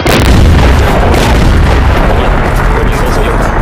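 Firearm volleys in a historical audio drama battle between Ming troops and Manchu banner armies, loud booming blasts and crackling gunfire rolling continuously in a dense barrage from start to finish.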